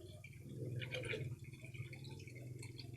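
Water from a hose splashes steadily onto garden plants, a continuous close patter and trickle with a low background rumble throughout.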